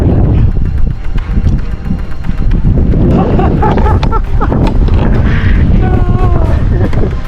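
Strong rain-laden wind gusts buffet the microphone over clear water from a boat, producing a loud, continuous rushing roar with scattered knocks and a voice breaking in briefly.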